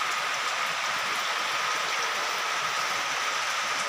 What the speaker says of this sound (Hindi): बारिश भी आवत है